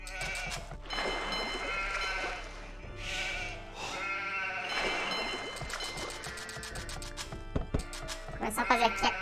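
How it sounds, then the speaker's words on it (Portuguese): Sheep bleat repeatedly amid rhythmic chopping as meat is gathered in Age of Empires 2, game sound effects mixed with background music and a narrating voice. "Começar a fazer aqui a coleta, então, agora da carne da ovelha."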